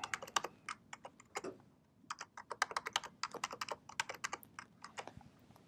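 Someone types a password on a computer keyboard during account sign-up, with quick bursts of crisp key clicks broken by a short pause; close, quiet and alone.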